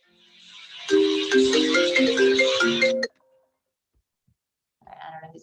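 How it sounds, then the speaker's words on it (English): A mobile phone rings during a virtual 401(k) conference, its bright melodic ringtone playing loud and close for about two seconds before cutting off, followed by a short burst of faint tones after a pause. "I don't know whose phone that was ringing."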